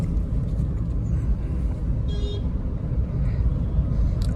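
Inside a Renault Pulse petrol car on the move, a steady low engine and road rumble drones continuously at an even level, with faint higher hiss from tyres and passing air and no talk.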